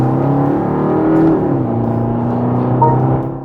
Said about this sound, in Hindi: थोड़ा सा खींचते हैं गाड़ी को